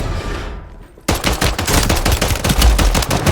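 MTZ-762 rifle in Call of Duty Warzone firing loud, rapid bursts of sharp gunshots in a fast continuous rhythm after a brief quieter moment, close and dominant with no talk.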